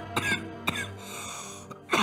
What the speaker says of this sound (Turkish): Bu da çok gerçekçi öksürüyor ya.